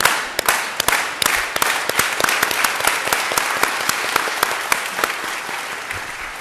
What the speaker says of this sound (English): if this crowd had its way, the applause would have lasted for an hour